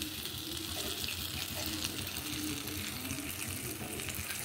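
Whole cardamom, cinnamon and cloves frying in about a teaspoon of butter for a chicken stew, a steady close sizzle and hiss filling the whole moment with no voices.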